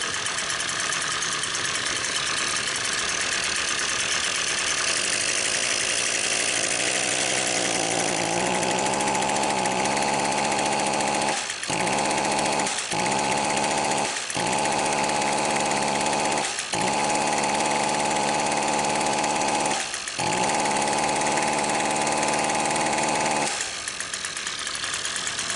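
A small two-stroke engine idles steadily with a buzzy drone, cutting out briefly several times in a row before settling back into its idle; it idles but will not rev up.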